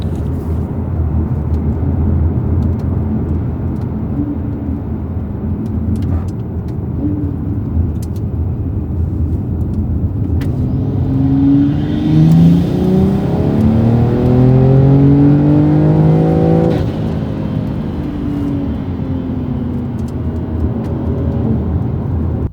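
A catless BMW M340i with a big turbo accelerates hard from inside the cabin, its steady engine drone swelling into a rising, whining surge midway before settling back to a cruising hum.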